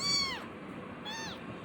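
A cat at a vet clinic gives two clear, fairly close meows, the first longer and drawn out, the second following after a short pause, over quiet room noise.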